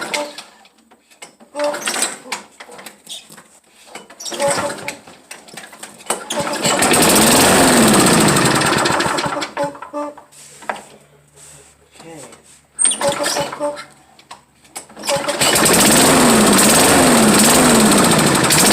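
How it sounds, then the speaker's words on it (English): A 6.5 horsepower Toro lawn mower engine is revved up repeatedly, sputtering bursts climbing into a loud sustained roar twice, close by, with choppy idling between the revs. "That's how loud it can get when you rev it up to the max."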